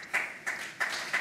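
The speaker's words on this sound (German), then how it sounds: "Applaus hier im Saal" Applause in a hall at a German panel discussion on public broadcasting, arriving as several short bursts of clapping that swell and fade, moderately loud with no talk over it.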